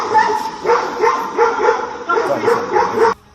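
A dog barks and yips repeatedly in rapid bursts to drive off a grizzly bear, loud and close, with brief pauses between volleys before it cuts off.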